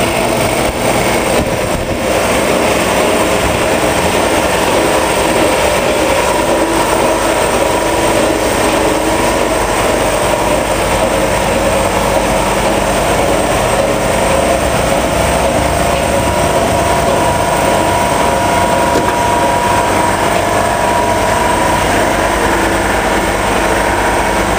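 A just-serviced air compressor, freshly filled with synthetic compressor oil after an oil change, runs steadily with a loud, close, even mechanical drone that continues without a break.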